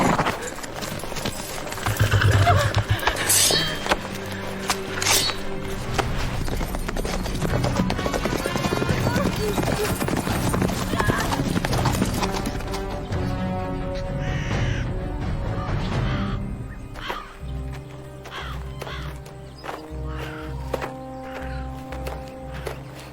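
Horse hooves clip-clop along beside a crow's harsh caws, buried under loud, dense orchestral music in an outdoor fantasy drama scene.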